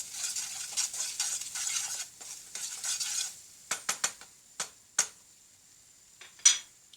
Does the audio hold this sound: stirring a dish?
yes